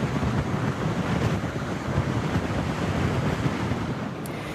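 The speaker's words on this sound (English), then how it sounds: "The storm battering the banks of several states, packing strong winds and massive waves causing flooding." Strong hurricane winds and heavy surf from Hurricane Erin at Virginia Beach, a steady dense roar of crashing waves and gusting wind buffeting the microphone, loud and continuous throughout with no voices.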